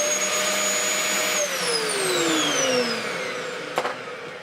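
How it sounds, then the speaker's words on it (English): A Dyson DC04 vacuum cleaner running steadily nearby with a loud whirring motor, its pitch sliding downward partway through, then a brief clatter near the end. "And we'll quickly do some vacuuming to check all else is in order."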